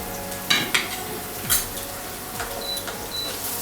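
Coarsely chopped onion sautéing in a pan for vegetable bread upma, a steady soft sizzle with a few sharp scraping stirs and clinks of a utensil against the pan.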